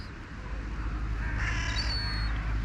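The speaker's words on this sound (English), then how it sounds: "There's our little crows." A crow caws once or twice outdoors at moderate distance, over a steady background of wind and ambient noise.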